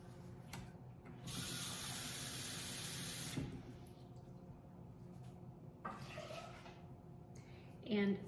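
Water pours from a cup into a saucepan holding two sticks of butter on the stove for chocolate cake batter: a short, faint splashing stream of about two seconds, followed by quieter kitchen sounds and talking.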